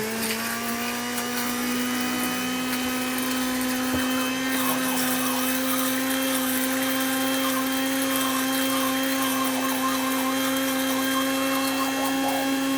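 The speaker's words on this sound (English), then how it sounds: "right now I'm just gonna use the blender" A blender whirs steadily at high speed emulsifying a herb dressing, a loud continuous motorized whine with no talking.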